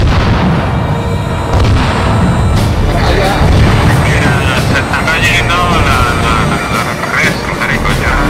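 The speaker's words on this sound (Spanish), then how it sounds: "¿Dos helicópteros más?" Helicopters roar overhead in an Arma 3 night battle, a loud sustained engine drone mixed with booms and bursts of gunfire, with voices nearby.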